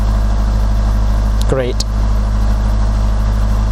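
A car engine idling steadily during warm-up with its mass air flow sensor disconnected, a loud, even low drone throughout, briefly overlaid by a short spoken word.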